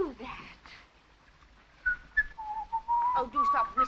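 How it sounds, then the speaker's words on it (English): After a quiet start with a murmured voice, someone whistles a short wavering tune, the notes sliding up and down, fairly close and clear. "Oh, do stop whistling."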